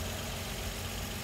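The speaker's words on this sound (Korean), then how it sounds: "엔진, V6 엔진으로 되어있고" A 2011 Renault Samsung SM7 New Art 2.3 LE V6 engine idles with a steady, even low hum, heard close with the hood open and no talking.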